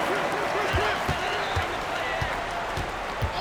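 A crowd roars steadily through a large arena in the basketball video game NBA 2K23 while a basketball bounces rhythmically underneath.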